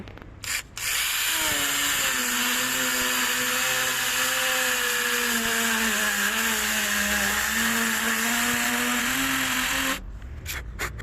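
A Makita cordless power tool cuts through chipboard in a steady, loud whine with a grinding rasp that holds for about nine seconds and stops abruptly, with no talk over it.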